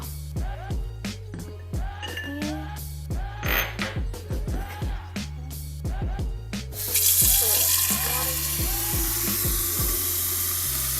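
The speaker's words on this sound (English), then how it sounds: "let's go ahead and put some water in this cup." Water from a tap pours into a cup in a rapid burst of gurgling, bubbling splashes, growing louder and more rushing toward the end as the cup fills.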